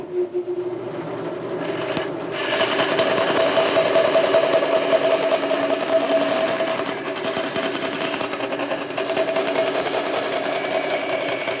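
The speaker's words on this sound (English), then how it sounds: "The real key feature to a bandsaw is that due to the narrow blade," A bandsaw with a half-inch-wide blade runs steadily in a machine shop, a loud even whine and rasp that hum on alone for several seconds after a brief softer start.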